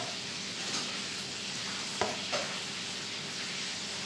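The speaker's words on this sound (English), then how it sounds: "I will mix this one" Filipino-style spaghetti is stirred in a pan with a soft continuous sizzle and a couple of faint utensil knocks against the pan.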